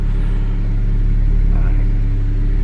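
A car rumbles with a steady low engine drone as it sets off on a test drive, loud and close with no clear revving, and a faint whirring runs beneath.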